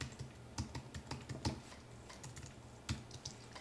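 Rapid computer keyboard typing at a desk, quick irregular key clicks close by with a low steady hum underneath, no voices.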